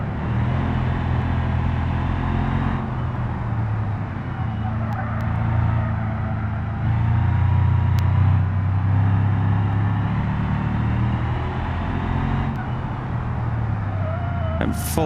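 A race car's engine at the Nürburgring in a driving video game drones steadily and loudly with a low, constant roar throughout, shifting only slightly in pitch under heavy braking.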